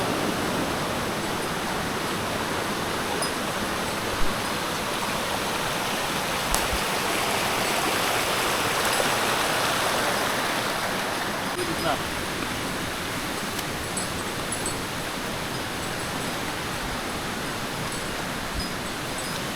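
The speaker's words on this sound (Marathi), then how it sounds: "तो इकडे एक नदी आहे." A river rushing during a monsoon outing near Koyna dam, a loud, steady broadband wash of flowing water filling the whole stretch with no pauses.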